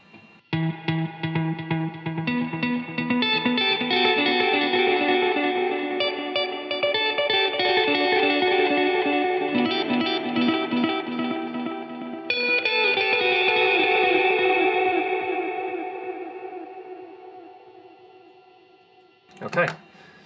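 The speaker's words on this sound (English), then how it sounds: "that's my 2 delays, and you can hear them, the delay from each of them bouncing, sort of colliding with each other" Guitar played through a Timeline digital delay and an El Capistan delay at once, echoes stacking and colliding into a dense ambient wash of sustained chords that fades out before a final strum.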